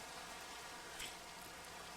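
Rain falling in the Minecraft modpack Enigmatica 2 Expert, a steady faint hiss of downpour with no pauses and one brief brighter patter in the middle.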